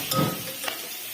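Tomatoes just added to a hot pan are stirred, giving a short burst of sizzling and a spoon scrape, close and brief, with no voices.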